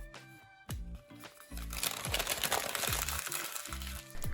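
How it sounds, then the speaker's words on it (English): Paper receipts being crumpled by hand into a ball, a dense close crackling and crinkling that swells after the first second and runs steadily over soft background music. "Crumple the paper"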